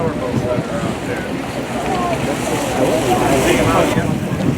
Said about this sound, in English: Everybody heard of these power boats that are out there?